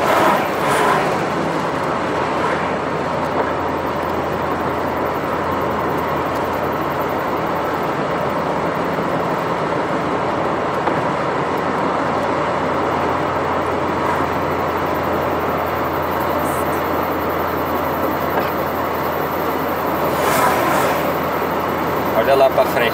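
Continuous heavy road rumble with a dense engine drone from a convoy of heavy trucks rolling past on the BR-116 highway near Jequié, Bahia, Brazil, steady throughout with a faint voice.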